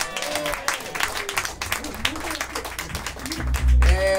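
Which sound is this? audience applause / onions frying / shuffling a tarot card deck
audience applause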